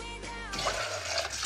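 Water running and splashing into a cooking pot while tea is being prepared at home, a steady pouring wash that swells midway, close and fairly loud with no talking.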